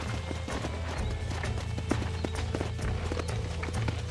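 Horse hooves clip-clop steadily in a Red Dead Redemption video game, mixed with a whinny and a constant low rumble, the footfalls close and rhythmic throughout.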